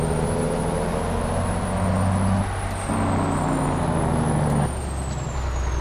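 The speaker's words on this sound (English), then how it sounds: "I gotta listen to this beautiful engine." A truck engine runs with a steady low rumble, its pitch stepping up and down as gears change, and a high whine persists over it the whole time.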